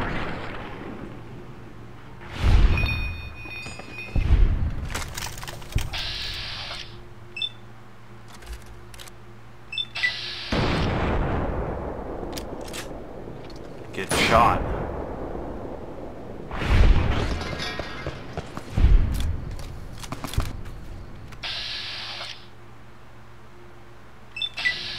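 Gunfire and explosions in Fallout: New Vegas come as a long run of heavy booms with rumbling decays, scattered sharp clicks and metallic rattles, swelling and fading at irregular intervals.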